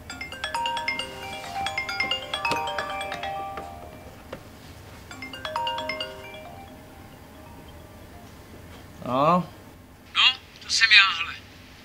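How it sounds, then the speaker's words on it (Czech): A telephone rings with repeated electronic melodic chimes in short bursts, followed by brief voice-like sweeping sounds near the end. "už mi telefon"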